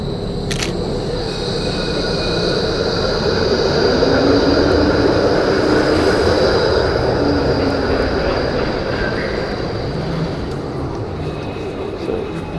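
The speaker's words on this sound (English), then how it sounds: "So, try and work with these trams as they come in and get the town hall behind them." Trams pulling in near a town hall, a broad rumbling roll of wheels on rails with a faint high whine, steady and fairly close, with a sharp click near the start and indistinct voices in the background.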